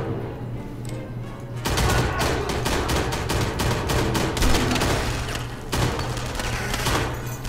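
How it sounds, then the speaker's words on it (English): Sustained machine gun fire in the shooter video game Enemy Front, a dense rapid volley of shots that starts abruptly, rattles on for several seconds and briefly breaks before resuming, loud and up front. "I think there's a machine gun out there."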